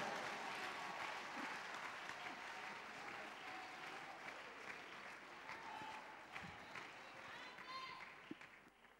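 A church congregation applauding, sustained clapping from many hands filling the room at a steady level, with voices and cheers mixed in throughout.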